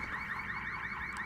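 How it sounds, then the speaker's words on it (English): Car alarms blare nonstop in the video game Quantum Break, a loud, steady electronic wail repeating in quick rising sweeps about every quarter second, with faint low rumble beneath. "Still with the alarms, with the constant alarms."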